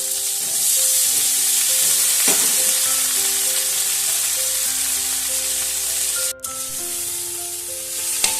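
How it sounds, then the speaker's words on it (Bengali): Onion and leafy green stalks frying in a pan give a steady, close sizzle throughout, with faint stirring scrapes and brief tonal hums in the background. "পেঁয়াজটা একটু ভাজা হতে থাক তো অল্প একটু ভেজে নিয়ে এবার শাকের ডাঁটাগুলো আমি এর মধ্যে মিশিয়ে দেবো"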